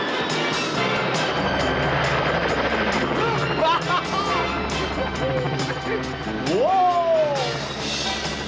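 A helicopter's rotor drone runs throughout under loud, busy action sounds with crashes and sweeping tones, like a film soundtrack.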